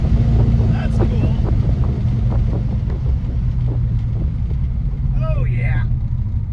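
A 1968 Dodge Charger with a swapped Magnum engine runs loudly outdoors, a steady low engine rumble with heavy wind buffeting the microphone throughout.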